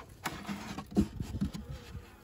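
Honeybees stirring inside an overwintering Layens hive, a soft, close insect hum with faint buzzing that rises and falls over a few seconds, joined by light tapping and shuffling of hive boards.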